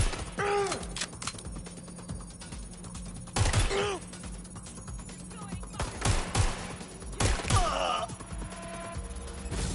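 Gunfire in the Watch Dogs: Legion video game comes in sharp, loud bursts of shots spread across the scene, with a game voice and grunts between the volleys.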